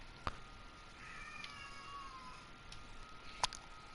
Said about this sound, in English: Listen to my cat yell at me